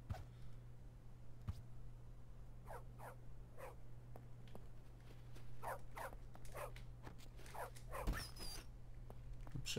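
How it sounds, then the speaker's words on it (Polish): A dog in the video game Bully: Scholarship Edition whimpers and yips in short, repeated bursts spread over several seconds, faint to moderate against a constant low hum, with no talking. "Tu jest jakiś pies."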